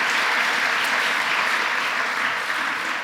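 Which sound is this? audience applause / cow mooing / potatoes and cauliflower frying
audience applause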